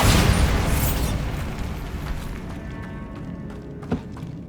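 A Bombarda spell explosion in Hogwarts Legacy, a loud booming blast that fades away over a few seconds with a faint thud near the end.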